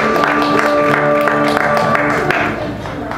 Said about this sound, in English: Round of applause for the ladies.